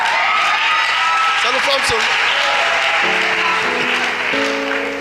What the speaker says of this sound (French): Aujourd'hui, c'est les femmes seulement qui applaudissent pour moi.